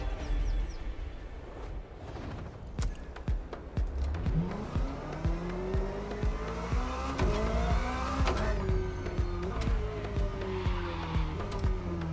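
An Audi R8 LMS GT2 race car in The Crew Motorfest screams through rising gear shifts with tire squeal and skidding, loud and close, with sharp clicks scattered throughout.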